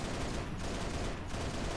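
An HE cannon in Halo: Reach fires a three-shot burst: dense, loud, overlapping booming blasts that fill the short moment, with no talking over them.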